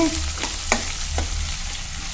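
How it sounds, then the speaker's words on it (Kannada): Chillies and cumin crackle in hot oil in a pan, a steady fine sizzle with three quick spoon scrapes against the metal spaced across the moment. "ನೋಡಿ ಮೆಣಸಿನ್ಕಾಯಿ ಒಂದು ಸ್ವಲ್ಪ ಹುರಿದಾವು."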